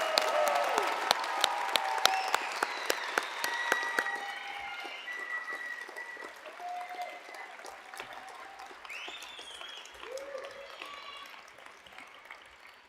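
Audience applause for dental students at a white coat ceremony, a big round of clapping with a few loud nearby claps at first, fading gradually while cheers and voices rise from the crowd.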